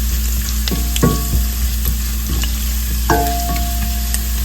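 Garlic sizzles in hot oil while it is fried for a bitter gourd and carrot pickle, giving a steady close crackle broken by a few sharp clinks of a stirring spoon against the pan.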